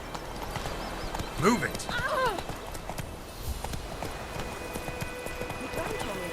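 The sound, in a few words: horse hooves galloping in video game The Witcher 3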